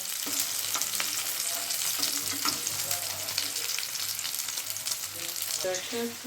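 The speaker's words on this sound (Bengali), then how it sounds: "ব্যাটারে চুবিয়ে এবার এক পিঠ হলে উল্টে দেবো" Batter-dipped egg pieces for Chinese-style egg chilli fry in oil in a pan, with a continuous, close crackling sizzle. A few utensil scrapes and clinks sound near the end.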